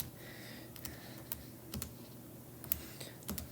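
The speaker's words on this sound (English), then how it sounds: "So now if we just type in that integral" Fingers tapping in an integral on a calculator keypad, a quiet series of light, irregular clicks spread across a few seconds in a still room.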